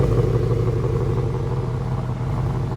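Rumbling idle of a 2017 Ford Mustang GT V8 with its resonator cut out, deep and loud, pulsing steadily, close to the exhaust, still warm from a recent drive.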